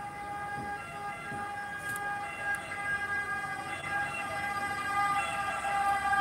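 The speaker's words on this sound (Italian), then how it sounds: "Sta passando un'ambulanza" An ambulance siren wails steadily over distant road noise, holding its tones as it grows slightly louder toward the end.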